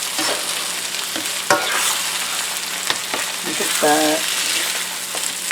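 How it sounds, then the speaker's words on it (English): Eggs mixed with stuffing ingredients are stirred in a hot frying pan, a steady sizzle running beneath scraping utensil strokes, with a brief spoken word partway through. "Then we're just going to break them up and stir them around."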